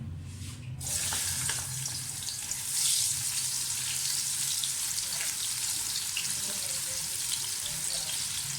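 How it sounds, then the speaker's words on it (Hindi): Onions drop into a cup of hot oil for a spicy chicken pulao and break into a broad, steady hiss of frying that rises sharply after a brief quiet start and continues evenly. "1 कप मैंने ऑयल लिए और ऑयल गर्म हो गया हमारा। साथ ही इसमें प्याज डाल दें।"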